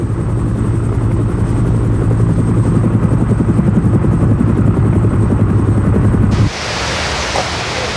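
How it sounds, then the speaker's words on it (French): A helicopter's loud, steady rotor roar fills the air as it flies away, then drops off abruptly to a softer, more distant wash of noise. "le son de l'hélicoptère qui s'éloigne est sûrement très dur à supporter"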